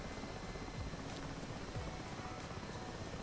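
A Mi-8 helicopter in the DCS flight simulator runs with a steady, dense rotor and engine roar, constant and close, with no voices.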